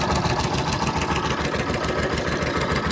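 A water pump motor running in a village near a school, a loud steady close mechanical drone with a fast even throb and high whine, no talk.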